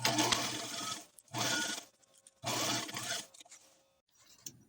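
A sewing machine stitches a fabric pouch in three separate runs, each a buzzing mechanical whir lasting about a second, split by short near-silent pauses, close up and alone.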